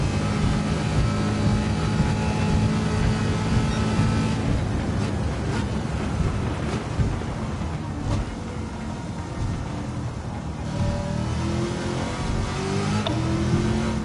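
A Corvette C8 with an 8-speed transmission drives in Gran Turismo 7, its engine a steady, loud broadband drone with brief shifts in pitch, running continuously without talk.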